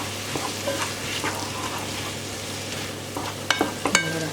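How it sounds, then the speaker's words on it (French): Potatoes being stirred with curry spices in a frying pan, a steady soft sizzle throughout with light scraping and clinks from the utensil growing sharper near the end, no voices. "On imbibe bien toutes les patates du mélange d'épices."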